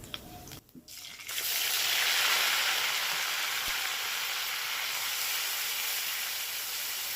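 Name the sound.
onion and ground shrimp paste frying in a pan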